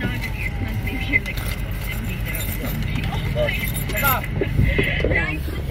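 Coins jingle and clink in a busy market while people talk nearby and traffic rumbles steadily underneath.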